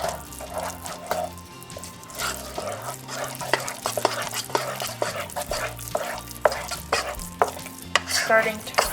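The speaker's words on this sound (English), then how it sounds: "Now I'm going to mix that all together." Eclair choux dough being stirred in a pot on a hot stove, thick wet squelching and scraping strokes repeating close by, with a faint underlying hiss.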